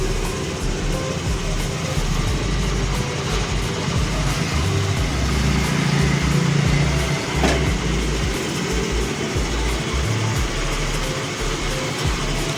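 Hero Destini scooter engine running steadily at idle in a workshop, a continuous low rumbling drone with constant loudness throughout and no talk over it.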